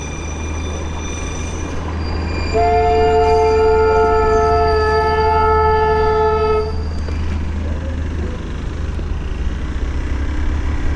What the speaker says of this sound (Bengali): এই দেখো টয় ট্রেন কিন্তু দার্জিলিংয়ে যাচ্ছে।